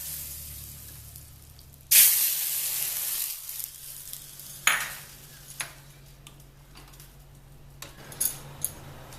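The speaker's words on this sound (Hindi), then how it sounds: "और छौंक को सूप में डाल देंगे।" A hot tempering of cumin seeds and asafoetida is poured into ginger soup, setting off a sudden loud sizzle that fades over a few seconds, followed by a few clinks of a pot and utensil.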